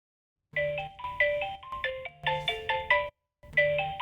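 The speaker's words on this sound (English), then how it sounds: "the Find phone still actually ping my iPhone" iPhone ringtone set off by a budget smartwatch's Find Phone feature: a clear melodic electronic ring in repeated phrases, close and alone, with a brief pause before it starts again.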